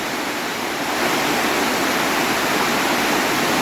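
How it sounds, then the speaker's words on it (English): Waterfall roaring inside a tunnel beneath a town, a steady loud broadband rush of falling water that fills the space continuously and swells slightly after the first second. "I don't know if you can hear me over the sound of this waterfall or not"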